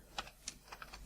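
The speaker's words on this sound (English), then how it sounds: "In your M file, type this command." Soft, close computer keyboard keystrokes tap out a command in an uneven run of about six quiet clicks.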